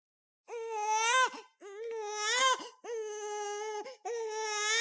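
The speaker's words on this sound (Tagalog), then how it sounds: "Hanggang sa marinig ko na ang iyak ng sanggol." A newborn baby boy cries in four long, wailing bursts separated by brief gasping pauses, loud and close with no other sound around.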